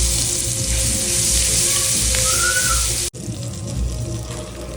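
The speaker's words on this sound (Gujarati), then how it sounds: "શાક બનાવવા માટે આપણે એક કઢાઈમાં 1 ચમચો તેલ, તેમાં થોડી હિંગ, હળદર, લાલ મરચું અને આપણે તૈયાર કરેલી પેસ્ટ ઉમેરીશું." Oil with asafoetida, turmeric, red chilli and a prepared paste sizzles in a kadai, a loud close hiss that runs steadily throughout, with a sharp break in the middle and no talking.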